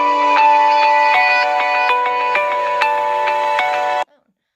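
A phone ringtone plays loudly and alone as a repeating bright melodic tune for about four seconds, then cuts off abruptly.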